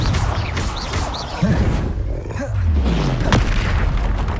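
Confringo spell blasts in Hogwarts Legacy burst out as deep, booming explosions with roaring rumbles, several impacts landing in quick succession over continuous low battle noise.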